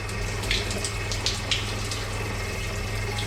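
A campground shower at Dos Picos County Park in San Diego County runs with a close, steady hiss of spraying water, a constant low drone underneath and a few brief splashes.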